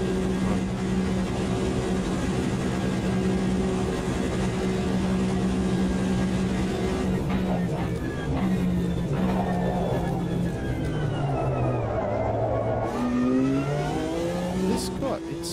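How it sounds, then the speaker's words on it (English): Race car engine in a Le Mans racing video game, revving high and bouncing off the rev limiter in a short fifth and sixth gear, with a steady harmonic drone and shifting pitch sweeps running under continuous talk. "And we will go on the rev limiter"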